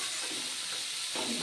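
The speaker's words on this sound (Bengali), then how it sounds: "একবারেই এগুলো ভেজে নেব ভালো করে উচ্ছেগুলো" Bitter gourd slices frying in hot oil, a soft, steady sizzling hiss that holds evenly throughout and swells slightly near the end.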